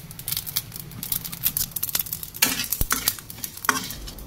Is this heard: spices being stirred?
yes